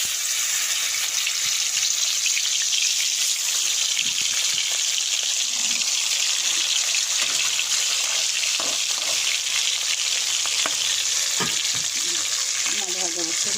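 Three pieces of fish fry in hot oil in a home kitchen, giving a continuous close sizzle with occasional pops and light stirring knocks, no talk over it.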